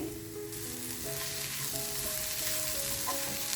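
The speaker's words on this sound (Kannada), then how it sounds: "ಕಡಲೆ ಹಿಟ್ಟಿನ ಹಸಿ ವಾಸನೆ ಹೋಗೋ ತನಕನೂ ಫ್ರೈ ಮಾಡ್ಕೋಬೇಕು." Gram flour masala fries in a pan on the stove, a steady close sizzle with stirring throughout and no voices.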